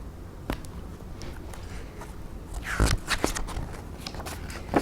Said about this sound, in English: I was chewing and chomping when suddenly I bit down and heard a crack